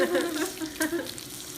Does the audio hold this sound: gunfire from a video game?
no